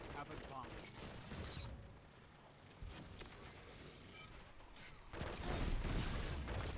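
Dense, rapid gunfire from a weapon in the Destiny video game, which behaves like a flamethrower, rattles in continuous bursts, dips briefly mid-stretch, then surges louder toward the end.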